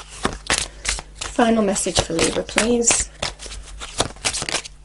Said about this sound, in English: I'm just going to shuffle one more time.